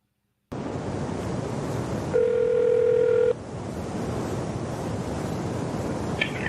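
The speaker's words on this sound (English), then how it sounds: "So now we're going to move on to an actual phone call with Kelly Carroll of the San Francisco PD." Telephone line tone as a phone call is placed to a San Francisco police department line: a steady electronic tone lasts about a second over a loud, hissing line noise, with no voices.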